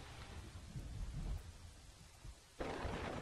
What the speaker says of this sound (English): I wish the rain was the same level as the clouds.